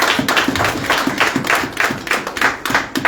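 Church congregation at a Pentecostal Sunday worship and praise service clapping in a steady rhythmic beat, loud and roomy, with faint voices mixed in.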